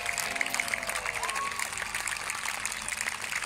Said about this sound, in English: Big round of applause for Corporal Hanley as he comes in.